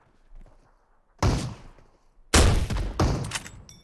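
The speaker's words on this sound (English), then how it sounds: "Let's switch back to the grenade launcher." Two heavy booming blasts from a grenade launcher in the Metro Royale shooter game, the first at about 1.2 seconds and a louder one near 2.3 seconds, each with a long rumbling tail over a quiet background.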